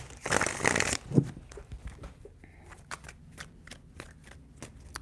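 Tarot cards are shuffled in a quick riffling burst up front, followed by quieter soft card handling and light taps, recorded close up in a quiet room.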